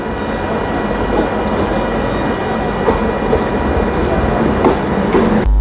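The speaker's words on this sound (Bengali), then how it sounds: "অনেক ট্রেনের আনাগোনা দেখছি যেমন এইটা কৃষ্ণনগর লোকাল" A Krishnanagar local train rolls steadily past a station platform nearby with a continuous heavy rumble and faint rhythmic wheel clatter, loud and unbroken throughout.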